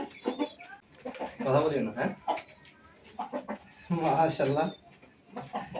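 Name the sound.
rooster clucking while being handled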